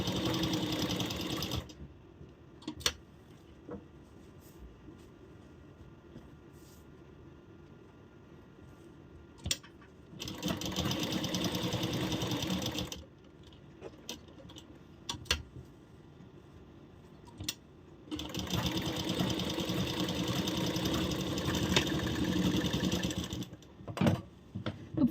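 Sewing machine stitching a princess-cut blouse in several separate runs: bursts of steady, rapid mechanical whirring, each a few seconds long, with quiet pauses and soft clicks between them, close and clear.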